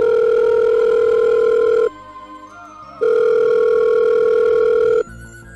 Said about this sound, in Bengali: নিপাকে রিং হচ্ছে।